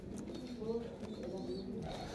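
Breeder pigeons, including a golden bird, coo softly in low, continuous murmurs at close range, with a faint background hum throughout.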